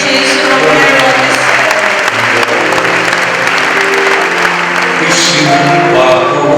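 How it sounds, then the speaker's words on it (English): An audience at a 2017 college graduation ceremony breaks into loud, sustained applause, a dense clatter of many hands clapping nonstop from start to finish. "let us give a round of applause to Dr. Bagius Sulagpo Tana"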